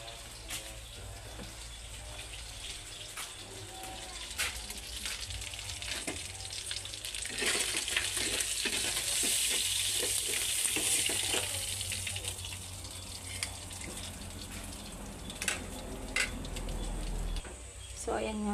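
Cooking oil sizzles and crackles in a pan while breakfast is made, a steady frying hiss with scattered pops. It swells louder midway, and a voice speaks now and then over it.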